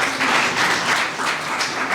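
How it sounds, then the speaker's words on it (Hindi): An audience at a youth electoral awareness event applauds a guest with steady, dense clapping that stays loud and continuous throughout. "एक बार जोरदार तालियां सर के लिए।"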